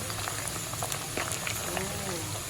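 Pork liver frying in beaten egg bubbles and crackles steadily in hot oil, a dense popping fizz with scattered brighter spits, with a person talking over it.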